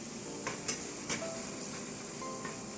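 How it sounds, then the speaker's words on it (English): Flour sautéing in butter in a pan with onion for tomato soup, a soft steady sizzle with a few light stirring scrapes and clicks, close and fairly quiet. "just saute the flour in the butter for a few seconds"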